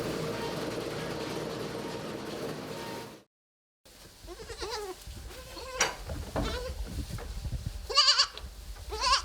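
Goats bleating on a French goat farm with a cheese dairy, a steady rumbling drone first, then a brief dropout followed by several close, loud, wavering bleats overlapping one another.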